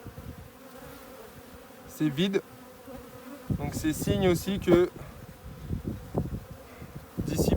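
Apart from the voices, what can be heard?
honey bees buzzing around an open Dadant hive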